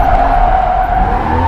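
A loud, sustained tire squeal with a steady engine drone from a car drifting, close and continuous throughout the brief moment.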